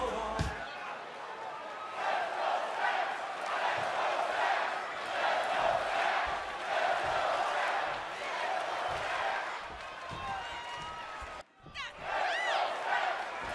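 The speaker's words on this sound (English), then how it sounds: "Listen to that crowd chanting," A crowd at a TNA wrestling house show in Lewisburg, Tennessee chants "Let's go, Stacks" loudly and steadily in a rhythmic, sustained roar that fills the arena, then drops briefly near the end.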